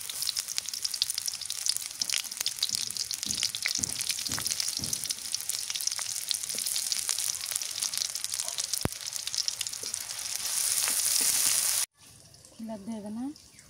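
Chopped onion frying in oil crackles in a dense, continuous sizzle with occasional stirring knocks, cutting off abruptly near the end before a short stretch of voice.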